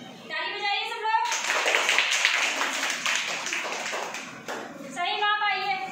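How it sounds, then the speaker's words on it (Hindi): Children in a primary school classroom in Bahraich clap together, a dense burst of quick hand claps lasting several seconds, with a voice speaking briefly before and after. "ताली बजाइए सब लोग।"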